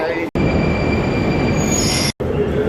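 Moscow metro train running underground, a loud, steady roar of wheels on rails with high squealing tones, close and constant, briefly cut twice.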